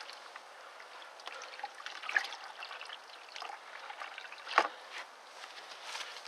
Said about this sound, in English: we're flushing away.